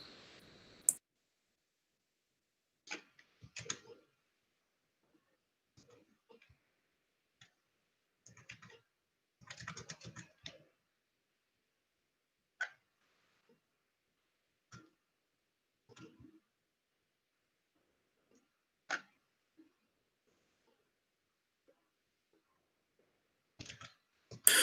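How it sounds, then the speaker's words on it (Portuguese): Sparse, faint clicks of a computer mouse scattered through near silence, some single and some in short clusters. "Os cliques do mouse, eu acho que vocês estavam ouvindo os meus"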